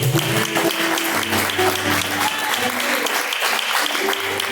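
Sustained congregational clapping during a live Pentecostal church service, the continuous applause filling the room with a few voices and low tones mixed underneath.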